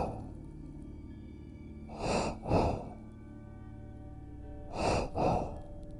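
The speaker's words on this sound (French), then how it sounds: "il entendait une respiration. Un souffle lourd et fort" Heavy, loud breathing close to a phone line, two pairs of harsh breaths with a steady low hum behind them.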